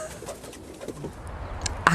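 A pigeon coos softly a few times in a quiet indoor-sounding space, low hollow calls spaced unevenly, ending with a brief sharper sound close by; no talking.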